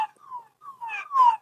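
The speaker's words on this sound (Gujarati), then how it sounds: "અને અત્યારે એમ્બ્યુલન્સ નીકળી છે." An ambulance siren passes outdoors by an ashram, a few wailing rising-and-falling tones over about a second and a half, moderately loud and growing closer toward the end, with no talk.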